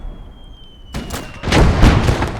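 A field gun fires in the wartime strategy game Call to Arms Gate of Hell. Near silence, broken only by a faint tone, gives way to sharp close blasts and then a heavy, loud explosion that rolls and fades, with no voices.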